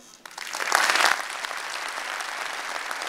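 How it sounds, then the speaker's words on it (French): Audience applause at a French-language talk, rising quickly to a dense crowd of clapping that peaks early and then holds steady, fairly loud and continuous, with no speech. "vous pouvez applaudir, s'il vous plaît, très fort"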